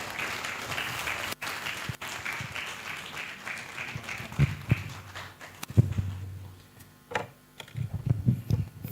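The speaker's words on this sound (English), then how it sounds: "Let's keep clapping for her as she comes." An audience at a 2024 conference claps as the keynote speaker comes on stage, dense steady applause that thins out into scattered claps, knocks and shuffling.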